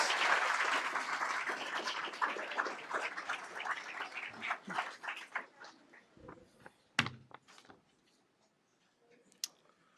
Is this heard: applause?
yes